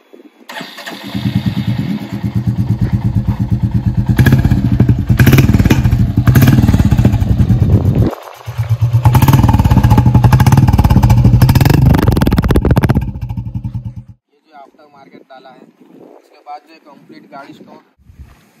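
A 2022 Royal Enfield Classic 350 motorcycle with an aftermarket exhaust revs loudly up close, with a brief drop near the middle before revving again, then falls away to quiet.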